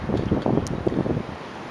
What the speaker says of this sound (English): it's like getting a little bit windy out here